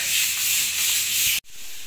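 Power grinder sanding in a bathroom during plumbing work, a steady loud hiss and rub that runs unbroken for over a second, then cuts out abruptly before resuming.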